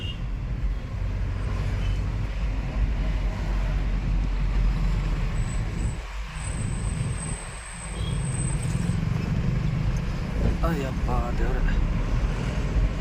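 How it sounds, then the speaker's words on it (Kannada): Strong cold wind blowing around a truck in rainy weather, a steady, broad low roar that fills the whole stretch, with a faint voice underneath. "ಸಿಕ್ಕಾಪಟ್ಟೆ ಕೋಲ್ಡ್ ವೆದರು ತಣ್ಣು ಗಾಳಿ ಬೀಸ್ತಾ ಇದೆ"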